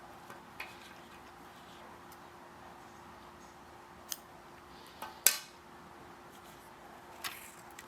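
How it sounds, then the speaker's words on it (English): Scissors snipping crochet yarn, a few faint, quiet clicks and one slightly sharper snip against a soft steady background hum. "we're going to trim this yarn"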